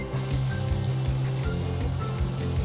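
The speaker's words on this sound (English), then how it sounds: "I'm going to add in some oil into my heated pan and add the onions" Onions sizzle in hot oil in a heated pan, a continuous crackle lying over a loud, low rhythmic hum that pulses steadily throughout.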